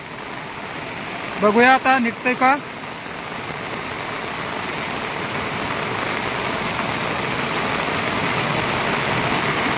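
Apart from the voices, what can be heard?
heavy rain during flood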